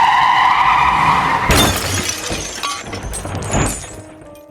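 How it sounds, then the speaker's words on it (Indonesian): A bus on a road skids and crashes into a roadside barrier, a sudden loud impact with shattering glass and metal debris scattering and rattling, after a steady engine whine, with the crash sounds fading out. "Bus menabrak pembatas jalan lalu jatuh ke dalam jurang."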